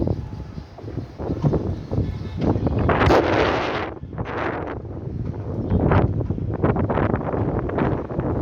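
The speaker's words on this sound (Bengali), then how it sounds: "বাতাস আর বাতাস খুব প্রচণ্ড বাতাস দেখুন" Strong wind buffets the microphone in loud, rushing gusts, with a few surges swelling and fading over steady roaring noise.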